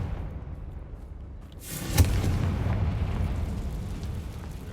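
A Confringo fire-blast spell explodes in the Hogwarts Legacy video game, a sudden loud boom with a sharp crack followed by a sustained low rumbling roar that lingers for several seconds.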